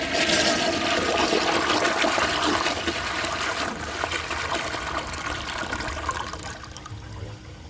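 A 1976 Crane Whirlton toilet flushes a washcloth, a loud rushing swirl of water that gradually fades to a quieter trickle as the bowl drains and refills.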